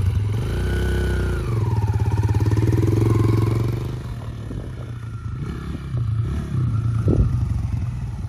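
A Kawasaki KLX140 dirt bike engine runs close by, a steady buzzing drone that rises in pitch as it revs, then settles into a rougher, clattering idle with small throttle blips.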